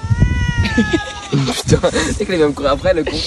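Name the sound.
cat meowing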